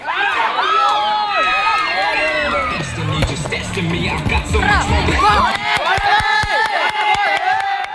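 Spectators packed along the field bunds cheer, whoop and shout during a mud football match in a waterlogged paddy field in Kerala, a loud dense crowd roar with rising yells and scattered claps.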